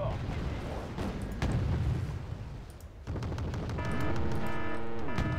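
Anti-aircraft guns firing in the Wargame Red Dragon strategy game, sharp repeated shots and booms at a moderate distance over a low battle rumble, followed by a rising-and-falling whine in the final seconds.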